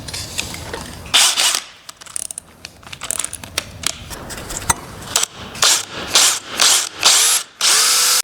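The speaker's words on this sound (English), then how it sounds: "I'm gonna drill myself a pilot hole" A power drill with a 1/4 inch bit whirs in repeated bursts, drilling a pilot hole into lumber with grinding, ratcheting noise, loud and near, with short pauses between pulls.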